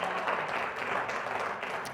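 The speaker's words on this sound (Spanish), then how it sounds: "Dele un aplauso al Señor." A church congregation applauding together, a dense, steady wash of clapping that holds for about two seconds without a break.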